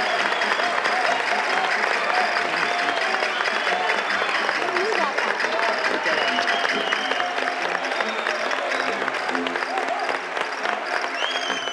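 A studio audience applauds without a break for a guest, Lola Flores, on a 1987 Catalan television show, producing a loud, dense wash of clapping with faint crowd noise underneath.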